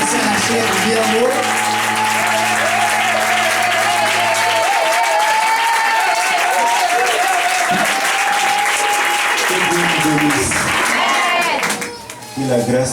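A church congregation applauds loudly and steadily in sustained clapping for a village chief, with raised voices mixed in before the clapping thins out near the end.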